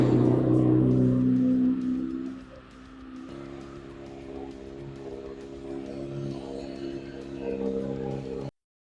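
A 2008 Honda CBR600RR sport motorcycle engine idles to warm up, a loud steady rumble at first that drops to a quieter, even idle before cutting off at the end.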